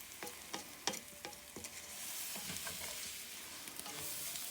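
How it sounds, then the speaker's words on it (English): Butter sizzling and browning in a pan while making Mexican rice, a steady close frying hiss with scattered stirring clicks and scrapes, no talk. "how we doing with that butter? Now that we know it's cooking and starting to brown up"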